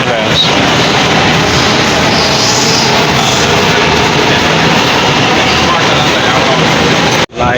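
A metro train pulls into the station, producing a loud, sustained rumble and roar that fills the platform, with a sudden brief dropout near the end and people talking nearby.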